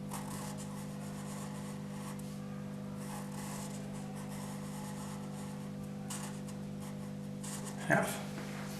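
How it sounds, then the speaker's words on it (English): Pen writing a number on paper for a cartoon drawing, a soft scratching rub under a steady background hum, close and faint, ending in a small bump. "I'm going to write 1/2."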